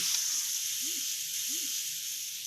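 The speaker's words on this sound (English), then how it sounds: "We've got a nice rendering of fat going on in the pan." Picanha beef roast sizzles steadily in a cast iron pan as its fat renders, a constant bright hiss with a couple of faint low clinks underneath.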